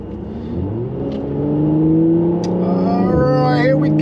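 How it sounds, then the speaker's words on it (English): A Mercedes C43 AMG coupe in sport exhaust mode accelerates hard while driving, its engine note rising steadily through the revs and then dipping briefly at a gear change before climbing again, loud and close from inside the car. "We got in sports butts, of course, to hear those crackles and pops."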